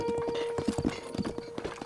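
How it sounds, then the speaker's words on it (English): Horse galloping in The Legend of Zelda: Breath of the Wild, a steady run of close clip-clop hoofbeats over game music with a faint whinny among them. "Damn it, Horse 2"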